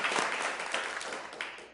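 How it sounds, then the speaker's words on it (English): An audience applauds at a Sioux Falls city council meeting, a steady wash of many hands clapping at moderate volume that slowly fades over a couple of seconds. "A round of applause, please."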